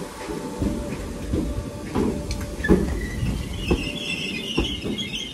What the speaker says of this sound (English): Train now terminating here is a 507.